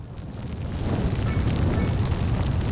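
A dense, rumbling blast in the Cities: Skylines city-building game swells into a steady roaring burst of noise that fills the short moment with nothing else over it.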